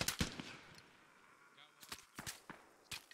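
Video-game gunfire crackles in short, scattered bursts, a few sharp shots near the start and more clustered cracks later, fairly quiet overall with a voice faintly present.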